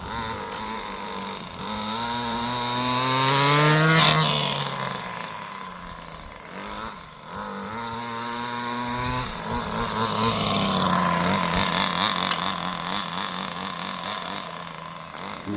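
Small Compagnucci Super Beetle engine revs loud and close, its buzzing pitch rising and falling through repeated throttle blips with a brief dip mid-run.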